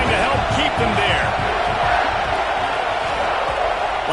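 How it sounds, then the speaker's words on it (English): A stadium crowd in a college football video game keeps up a dense, loud roar and cheer throughout, with a commentator talking over it. "this crowd trying to help keep them there"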